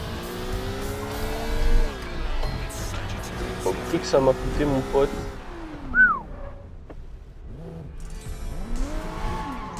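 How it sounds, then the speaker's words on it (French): A car in the Xbox One game Sleeping Dogs Definitive Edition revs and squeals its tires through turns, engine tones rising and falling under someone talking over the gameplay. "Là, tu imagines faire la course avec cette bagnole-là."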